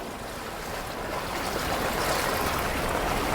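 Floodwater rushes past at Girna dam in a steady, rising hiss and roar, moderately close, that grows slightly louder over a few seconds.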